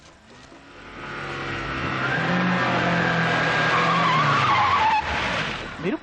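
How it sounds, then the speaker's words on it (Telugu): A car skids hard to a fast stop in a movie scene: engine noise builds into a long, loud tire squeal and screech, ending abruptly with a thud, under some background sound. "మెరుపు వేగంతో కారు వచ్చాగింది."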